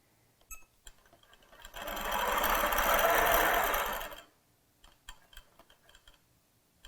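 A Q'nique 15 sewing machine running in precise mode, its needle hammering in a fast, steady, close mechanical buzz for about two and a half seconds, framed by quiet clicks and handling taps.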